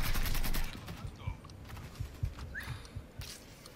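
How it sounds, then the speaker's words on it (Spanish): Rapid bursts of gunfire from the video game Mafia III crackle in the opening moments, then give way to scattered individual shots and impacts over a busy game soundscape. "Y te están disparando."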